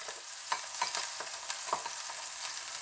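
Fish frying in a pan with corn added alongside, for fish tacos; a steady close sizzle with scattered clicks and scrapes of stirring, no voices.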